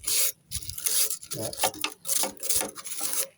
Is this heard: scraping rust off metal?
yes